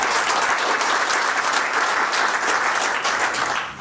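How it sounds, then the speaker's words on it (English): Audience applause fills a company town hall meeting, a steady wash of many hands clapping close and loud throughout, easing slightly at the very end, with no talking over it. "So a round of applause for the West."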